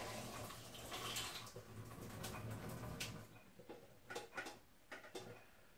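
Hot water from a pan of boiled potatoes being poured off, a steady splashing rush for the first few seconds that thins into intermittent trickles and drips as the pan empties.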